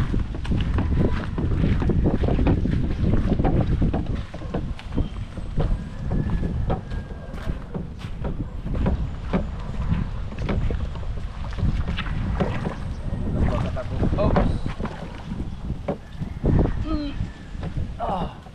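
A small launch motors steadily across the water with a loud, continuous low rumble, wind buffeting the microphone and splashes throughout.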